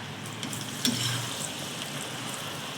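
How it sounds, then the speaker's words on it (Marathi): Damtya, a traditional Ashadh-month snack, frying in hot oil over lowered gas, giving a steady close sizzle with a brief bubbling surge near the start. "आणि मग थोडा कमी गॅस करून तळा थोडा तळून घेऊ"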